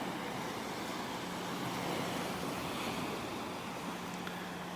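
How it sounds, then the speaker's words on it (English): Ocean waves breaking over a sandbar at a beach in North Naples, Florida produce a continuous, even surf roar with a low hum underneath, steady and unbroken for the whole stretch without talk. "This is that one little spot up here where the waves break over the sandbar."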